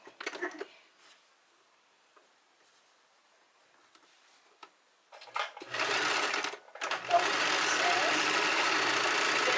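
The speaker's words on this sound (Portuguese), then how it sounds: "Costurando aqui normalmente, tá vendo?" A sewing machine stitches lace onto a fabric pillowcase: after a quiet opening with a few faint handling sounds, the motor whirs up loud and close for the second half, pauses briefly, then runs on steadily to the end.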